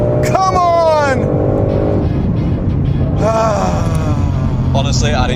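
Ford Shelby GT500 launching in a drag race against a BMW M8 coupe: engine climbs hard through rising gear pulls, shifts and climbs again, loud and close, with excited voices talking over it.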